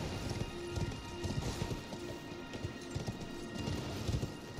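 A horse in Elden Ring trots along with a steady clip-clop of hooves, close and rhythmic, over a continuous rain-like hiss of the game's surroundings.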